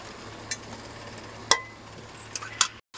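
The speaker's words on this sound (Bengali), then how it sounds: "তেল ছাড়া অবধি আমি কষে নেবো।" Chicken kosha being stir-fried in oil in a pan, giving a steady low sizzle with three sharp clinks of a spoon against the metal spread through the clip.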